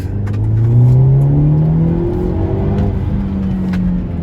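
A 2023 Hyundai Elantra N with a manual gearbox accelerating hard in second gear, its engine note rising loud and close in a long sweep, then settling to a steady drone.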